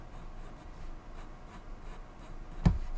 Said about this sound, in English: so we're gently going to just sketch in